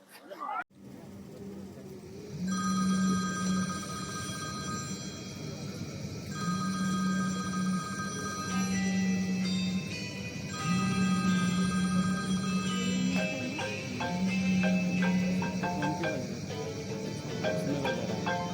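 A phone ringtone plays aloud through a loudspeaker, a repeating melodic tune in recurring bursts with a low tone underneath, heard inside a palace venue in Ratnagiri.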